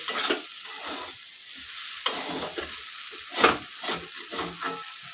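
Okra and eggplant fry in oil with a steady sizzle, broken by several louder stirring scrapes and clinks of a utensil against the pan, near and alone with no talking.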